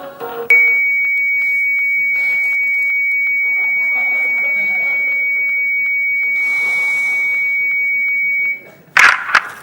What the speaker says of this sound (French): laissez votre message après le bip sonore